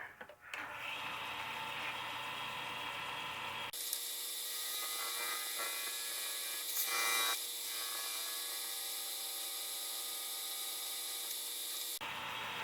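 Skew chisel cutting a wooden Christmas ornament on a spinning lathe, a continuous hissing, rubbing cut that runs for several seconds with a brief harsher catch partway through, heard over the lathe's hum.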